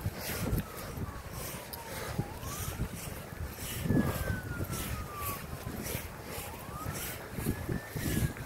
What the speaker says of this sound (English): There's those sirens.